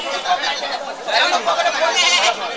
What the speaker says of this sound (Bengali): খালি দেশি জাতের ছাগল।